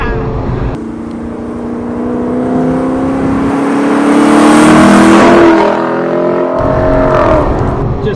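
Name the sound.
Lexus LC 500 car engine while driving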